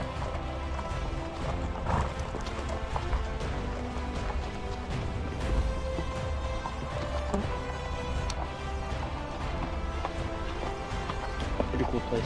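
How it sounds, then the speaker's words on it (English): Horses walking on a trail during a horseback ride in Iceland, hooves clopping in an uneven rhythm beneath outdoor wind and rustle, with riders talking over them. "We're just out here on the horses."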